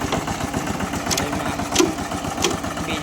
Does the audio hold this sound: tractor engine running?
yes